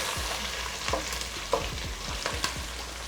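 Gizzard pieces fry in hot oil with a close, bright sizzle and crackle, broken by a string of spatula scrapes and stirring clunks.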